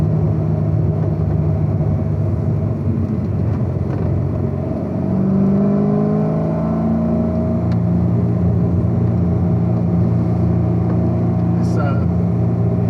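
A car running on Cup 2 tires is driven hard on a skid pad, its engine droning loud and steady with rising and falling revs. Voices talk over the engine noise.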